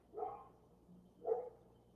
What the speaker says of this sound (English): The dogs are like yelling at each other outside.